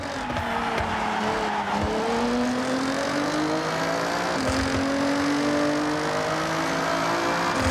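Car engine sound from the racing video game Forza Horizon 6, a continuous loud engine drone with rising and falling pitch as it revs and shifts gears, with tire squeal mixed in and no talking.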